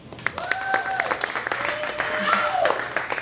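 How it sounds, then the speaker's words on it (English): A comedy show audience claps and applauds, with whistling tones and voices mixed in over the applause. "Clap if you're in a relationship."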